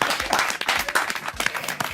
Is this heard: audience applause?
yes